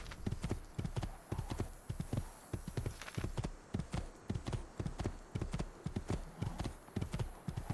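Horse hooves clip-clop at a steady trotting rhythm in the Assassin's Creed II video game, close and distinct, repeating evenly throughout with a faint high tone in the background.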